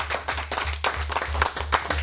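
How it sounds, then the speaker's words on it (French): A studio audience claps on a French talk show's season-finale special, with a low musical pulse beating steadily underneath the applause. "j'aimerais qu'on l'applaudisse encore une fois Thomas Lécuyer"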